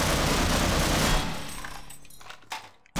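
Half-Life gunfire: a dense, loud burst of rapid shots for about a second, then fading echoes and a couple of sharp single reports near the end.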